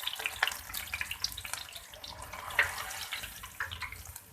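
Moong dal fries in hot oil with a continuous bubbling sizzle, close and steady, with a few sharper crackles and pops scattered through.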